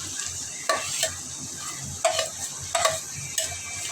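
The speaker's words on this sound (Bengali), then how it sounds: "তো গাজরটা বাজিয়ে নিচ্ছি, আমি সব সবজিগুলো দিয়ে দেবো" Carrots and mixed vegetables for a Chinese-style dish fry in a pan under a soft steady sizzle, with several sharp clinks of a utensil scraping and stirring at irregular intervals.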